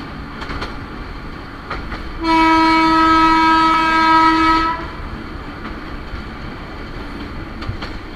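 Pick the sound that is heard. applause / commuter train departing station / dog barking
commuter train departing station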